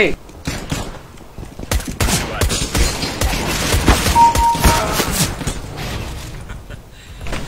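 Bursts of AK rifle fire in a video game snowball match, ragged volleys of sharp cracks and thumps at close range, with voices talking over the shooting.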